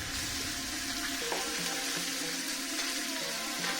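Chicken pieces frying in ghee in a pan over high heat, giving a steady, dense sizzle that carries on without a break and sounds close by, with no talking.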